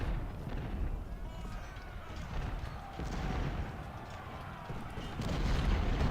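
Musket volleys and battle noise from the Civil War strategy game Ultimate General: Civil War, with a dense, continuous rumble of gunfire and booms rolling on throughout at a steady loud level.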